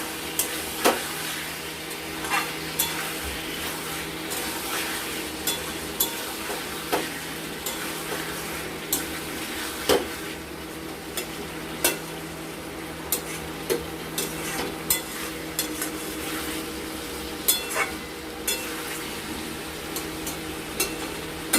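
A spatula stirs and scrapes through eel fish and potatoes sautéing in oil in a pan, with a steady low sizzle broken by frequent sharp clicks against the metal.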